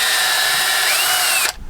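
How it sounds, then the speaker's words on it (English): A power drill with a 13/64 bit enlarging holes while mounting an onboard battery charger, one loud continuous whining run with a pitch that shifts slightly, then stopping abruptly near the end. "Use a 13/64 drill bit and just rounded them out a little bit."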